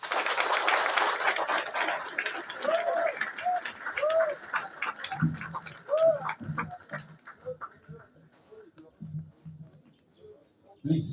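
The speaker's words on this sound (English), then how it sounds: "Please, let's give another round of applause to our guest." Audience applause for a guest speaker at a university matriculation event, loud and dense at first, then thinning into scattered claps as a voice speaks over it.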